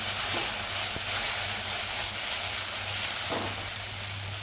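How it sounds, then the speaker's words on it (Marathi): A spoonful of green herb paste sizzles in hot oil with cumin and mustard seeds, a steady, close frying hiss broken by a couple of faint stirring scrapes. "आपण हिरवं वाटण घालूया चमचाभर. चांगलं तेलामध्ये परतवून घेऊया."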